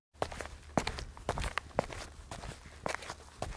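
A cartoon fox walks into a cave with a series of soft, irregular footsteps, fairly close and quiet against a low, steady background.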